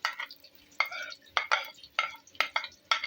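Onions fry in hot oil over medium heat, with a spoon stirring in quick, bright scraping bursts roughly every half second, fairly faint and close, with no talk.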